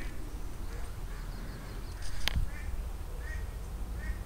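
A duck perched on a fence gives a few faint, repeated quacks under steady outdoor background noise, with a sharp knock partway through.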